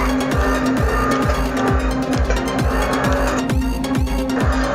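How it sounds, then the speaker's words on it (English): A Pegassi Infernus, a four-wheel-drive sports car in a video game, drifts with its engine revving in a rapid repeated rise-and-drop pattern, loud and close, while tires squeal toward the end. "This is a very fun car to drift."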